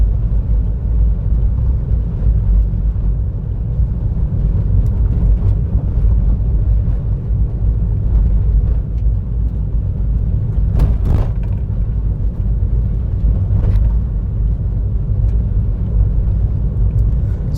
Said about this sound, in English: There's a lot of road noise coming in.